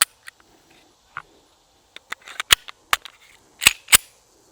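Walther PK380 pistol being decocked, giving a series of sharp metallic clicks and snaps scattered over a few seconds, the loudest grouped near the end, close and otherwise quiet.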